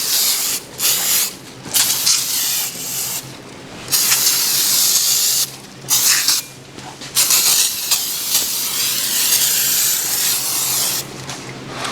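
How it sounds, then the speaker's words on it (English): Carb cleaner sprays onto metal vise parts during a restoration in loud, close, hissing bursts separated by brief pauses, with no talking. "spray them with some carb cleaner, get that cleaned up."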